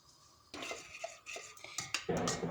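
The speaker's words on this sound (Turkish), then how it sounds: "Kaynayana kadar karıştıracağız kıvam alana kadar da devam edeceğiz." A utensil stirs thickening starch in a pot on the stove for a Turkish bici bici dessert, scraping and clinking against the pot in close, uneven strokes that grow busier toward the end.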